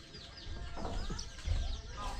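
Wild junglefowl cluck in short, scattered bursts at close range, mixed with a few faint higher calls and some background voices.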